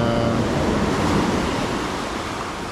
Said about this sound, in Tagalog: napakalakas ng mga alon dito ngayon dahil hindi maganda yung panahon